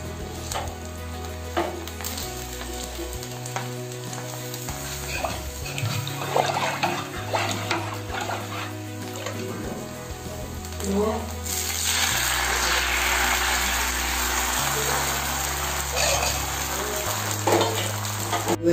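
Marathi ghavne rice pancakes sizzle steadily on a hot griddle, with scraping and stirring noises as they are turned, and the frying grows louder partway through.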